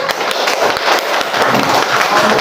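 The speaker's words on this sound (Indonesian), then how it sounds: "Sekarang beri aplaus semuanya." Students in a classroom applaud together, a steady, fairly loud patter of many hands clapping at once, sustained throughout.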